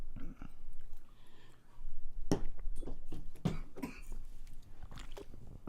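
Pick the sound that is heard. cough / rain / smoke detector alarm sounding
cough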